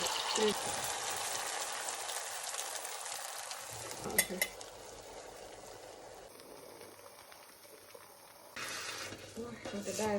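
An egg fries in butter in a home kitchen, giving a steady, close sizzle with a brief clatter partway through, while someone talks.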